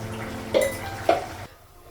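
Kitchen washing-up of a kadai and dishes: two distinct metallic clanks of cookware about half a second apart over running-water hiss, ending abruptly in near quiet.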